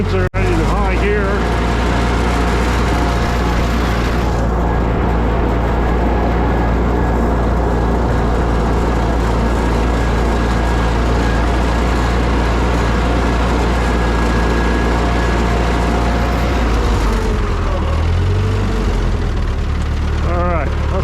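An old Ford 9N/2N tractor engine pulls a V-plow in high gear, a loud, steady low rumble running continuously with a slight shift in tone near the end.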